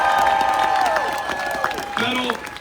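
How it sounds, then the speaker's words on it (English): Audience at a grassroots political event in Austin claps and cheers in a dense, steady wash of applause, with voices calling out over it throughout. "I want you to give these folks a big round of applause"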